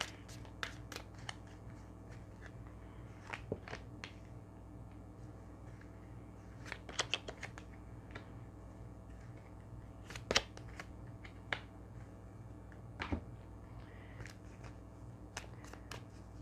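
Playing cards shuffled and drawn for a French tarot-style card reading, heard as soft, quiet riffling with scattered sharp snaps and flicks of cards over a low steady hum, with no talking.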